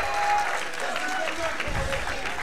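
A Street Fighter tournament crowd at NorCal Regionals 2013 cheers and applauds in a steady, loud wash of noise, with a commentator's voice running over it.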